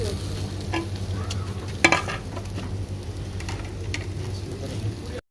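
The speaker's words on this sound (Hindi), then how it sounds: "फ़िश बारबेक्यू के लिए रख दिया जी।" Fish sizzling on an outdoor barbecue at an Eid party, a soft continuous crackle with a low background hum, one sharper clatter near the start and a few faint clicks.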